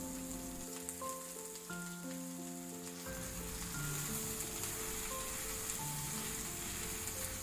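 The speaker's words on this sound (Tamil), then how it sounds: "இப்போ கட் பண்ணி வச்சுருந்த உருளைக்கிழங்கு, வெங்காயம் ரெண்டையுமே சேர்த்துக்கலாம்." Cut potatoes and onions hit hot oil and fry, a soft continuous sizzle that crackles like light rain, faint and steady with no voices.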